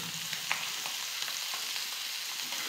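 Fresh puti fish fry in a pan with a dense, steady sizzle and crackle, sprinkled with small pops and spatters, close and continuous with no talk.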